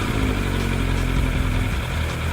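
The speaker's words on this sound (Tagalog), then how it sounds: "may button siya para hinaan pa yung exhaust ng motor" An inline-four motorcycle exhaust runs at a steady, fairly quiet idle, a low even drone with a slight dip near the end.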